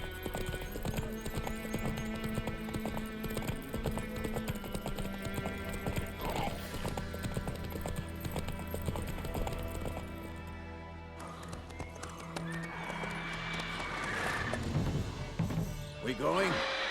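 Hooves of Roach, a horse in The Witcher 3, gallop in a steady clip-clop rhythm over continuous game music and ambience, with a brief whinny and clattering noises near the end.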